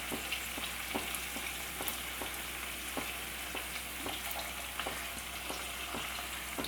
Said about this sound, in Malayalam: ഇനി ടൊമാറ്റോ കെച്ചപ്പ് ഇതിലേക്ക് ഒഴിച്ച് കൊടുക്കാം